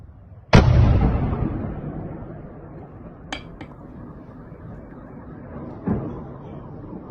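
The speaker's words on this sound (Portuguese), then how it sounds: "foi só um clarão e a explosão, que é justamente a hora que o míssil atingiu o prédio lá em Dnipro" Missile strike on a building in Dnipro, Ukraine: one sudden, loud blast boom that rolls off into a long fading rumble, followed by a couple of fainter sharp cracks and a later thud.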